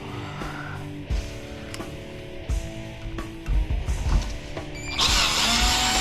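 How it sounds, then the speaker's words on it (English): A power drill works on a scrapped furnace regulator, with short bursts of motor whine between clanks and pauses, then a loud sustained run at the end. "Wonder if the drill's going to have enough oomph to do it."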